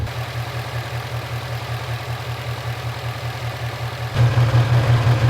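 A 2017 Ford Mustang GT V8 idles at operating temperature after a rebuild from wreck damage, a steady low rumble held close and loud throughout, stepping up slightly louder near the end.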